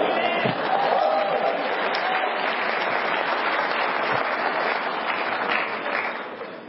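Sustained applause from a debate audience fills the hall, dense and steady for several seconds before fading slightly at the end, with a faint murmur of voices underneath.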